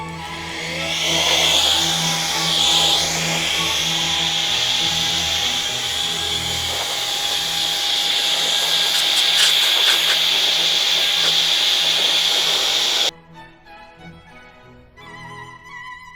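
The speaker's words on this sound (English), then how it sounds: "just to use this electric blower" An electric blower blasts dust out of a Dell OptiPlex desktop PC, a steady loud whine with airy rushing for about thirteen seconds, then cuts off abruptly, leaving faint clicks and handling noise.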